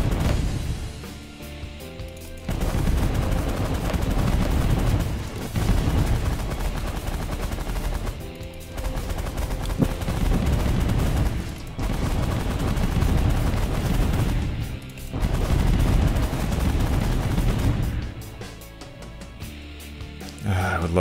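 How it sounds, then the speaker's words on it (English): Minigun in The Last Federation space game firing on auto: long bursts of dense rapid gunfire, each lasting a few seconds, separated by brief pauses and mixed with loud game effects. "Minigun, auto fire,"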